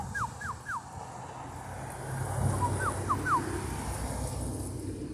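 A voice imitates a hoopoe outdoors with two sets of three short, falling whistled hoots, the second set a little fainter, over steady wind noise.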